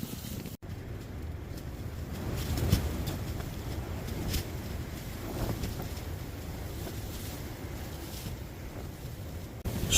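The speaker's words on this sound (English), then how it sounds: "it's getting fairly windy now" Steady, heavy wind roars and buffets across the microphone, a constant broadband rush with occasional louder gusts and no voices, at a wild camp in the Lake District during Storm Isha.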